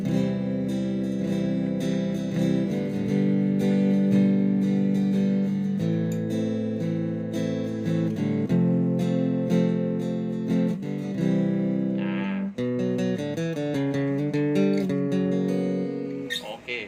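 A sustained, distorted electric guitar, a Kazuki Tele acoustic-electric, rings out through an amplifier, chords and notes held long with a thick, loud tone, no voices.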